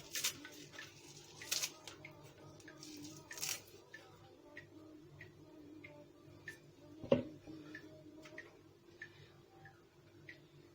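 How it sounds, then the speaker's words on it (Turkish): Light, irregular knife taps on a cutting board as parsley is chopped, close and quiet, with one heavier knock partway through. "Maydanozları koyuyoruz. Küçük küçük doğrayalım."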